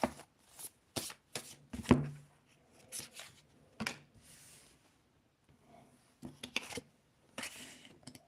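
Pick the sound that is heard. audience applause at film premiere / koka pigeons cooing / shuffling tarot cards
shuffling tarot cards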